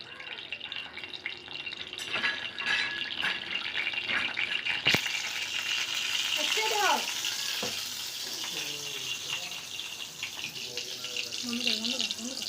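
Food, likely egg, fries in oil in a pan with a faint sizzle, broken by clatters of utensils and a brief splash, while voices speak intermittently nearby.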